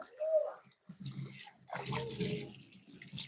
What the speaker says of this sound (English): Gotta give it a quick rinse.